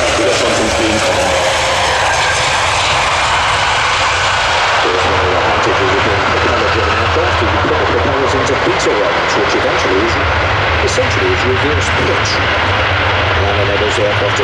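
An Airbus A400M military transport rolls out after landing at the ILA Berlin air show in 2016, its propeller engines roaring loudly and continuously, swelling as reverse thrust builds, with a commentator talking over it.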